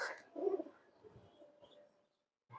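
Pigeons at a Bengali pigeon keeper's loft give a few soft, low coos near the start, fairly close, followed by quieter murmuring and a short silence before another brief sound.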